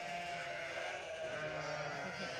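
Sheep and newborn lambs bleat in a barn during spring lambing, a faint continuous chorus of overlapping wavering calls.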